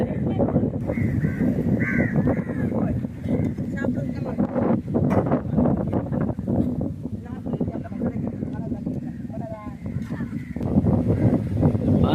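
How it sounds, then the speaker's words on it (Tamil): Crows caw now and then against a steady background of talking voices and outdoor noise at a beach. "பாருங்க எங்களை சேர்ந்து காகம் வந்துருங்க காகம் காகம்"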